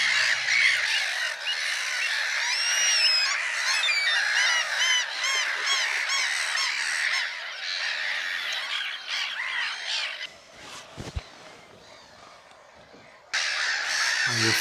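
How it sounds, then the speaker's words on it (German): Geese honking and squawking at a waterbird reserve, a loud continuous chorus of many birds at close range with gulls and ducks mixed in, thinning briefly before swelling again at the end. "Und Gänse."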